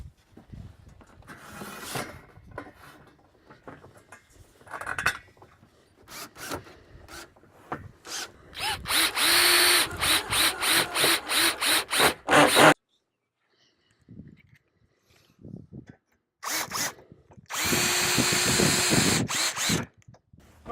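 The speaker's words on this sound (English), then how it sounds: "we recommend that you use a drill with a clutch so you don't twist off the head" A drill with a clutch drives stainless steel screws into aluminum railing brackets, giving bursts of high-speed whirring in several runs separated by short pauses and rubbing noises.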